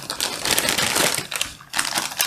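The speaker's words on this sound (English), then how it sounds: "the first item is going to be incredibly crinkly" Close, loud crinkling of a packaged item from a wool show haul, a dense crackling rustle that runs almost continuously with one brief pause.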